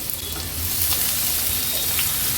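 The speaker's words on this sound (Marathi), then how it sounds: "आता एक मोठा कांदा बारीक चिरून घेतलेला हा पण ऍड करणार आहोत" Finely chopped onion sizzling in hot oil with asafoetida for a tender bamboo shoot curry, a steady dense crackle and hiss close by that never lets up.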